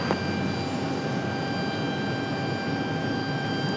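An airplane departing Raleigh Durham airport roars steadily with a sustained high engine whine layered over broadband rumble, loud and alone.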